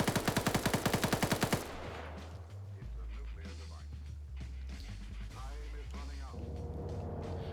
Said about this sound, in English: Demovar uses a rifle and absolutely murders him